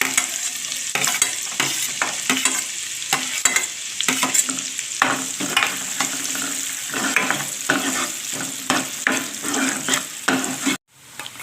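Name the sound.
onion frying in oil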